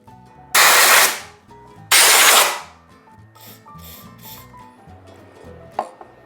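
Compressed air blown through the parts of a router table lift, heard as two loud, close hissing blasts about a second each, followed by quieter clattering and handling noises.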